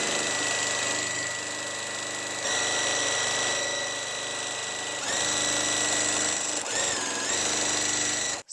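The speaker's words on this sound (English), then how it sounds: "I'm just going to sew the top and the bottom layers together." A sewing machine stitches the top and bottom layers of a Halloween quilt together, its motor running in a steady loud whirring hum with a fast needle rhythm, briefly changing pace and cutting off at the end.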